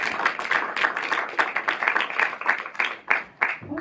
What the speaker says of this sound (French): je vous demande voilà, de l'applaudir encore une fois